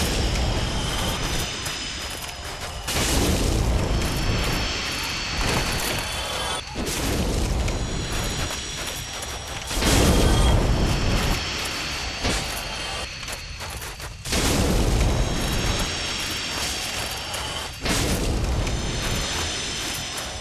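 Black firebombs explode in Dark Souls, a series of about five deep booming blasts with crackling tails, spaced a few seconds apart over ongoing game noise.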